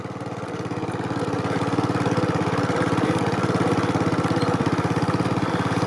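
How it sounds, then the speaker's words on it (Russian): A small two-stroke engine runs steadily nearby, a buzzing, rapid putter that rises slightly in intensity and then holds. "Тут такой мопед апокалипсиса полного."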